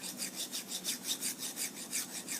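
Hand file resharpening a ship auger bit, with about ten even back-and-forth rasping strokes in a steady rhythm, close and fairly quiet, with no talking.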